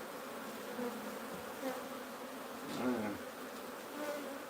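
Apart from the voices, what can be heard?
wild bees buzzing around their hive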